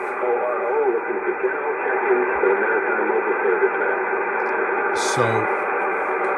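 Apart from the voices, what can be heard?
static on a shortwave radio receiver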